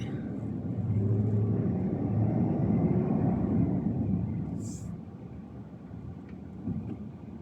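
A car rolls along a city road in Pasay City, a low engine and tire rumble swelling and fading with passing traffic, plus a brief high squeak near the end and faint background voices.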